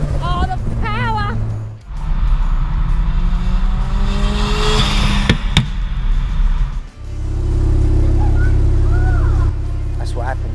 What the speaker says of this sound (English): That was the dyno run at RLM, making big horsepower on the RX5 Turbo on a stock engine.